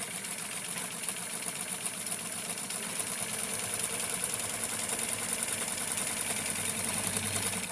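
A sewing machine stitches fabric for a vintage Ken doll beach set, giving a steady, even motor whir with a fine rapid needle chatter that runs unbroken and fairly quiet throughout, with no voices.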